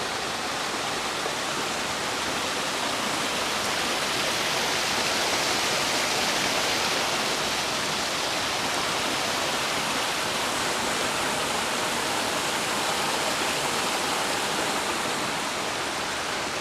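Water gushes steadily from a leak in a mill flume line at Cades Cove after heavy rain, a loud, close, unbroken hissing rush with no voices.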